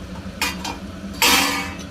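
A spoon scrapes and stirs jackfruit pulao ingredients with tomato and mint in a pan, making two short, close bursts of scraping over a faint sizzle.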